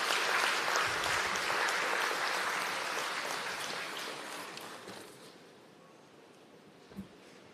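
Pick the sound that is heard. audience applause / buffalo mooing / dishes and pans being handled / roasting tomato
audience applause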